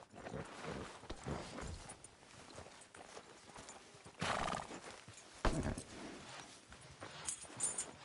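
A horse in Red Dead Redemption II clip-clops on the ground and neighs loudly in two sharp bursts, hoofbeats steady and close throughout.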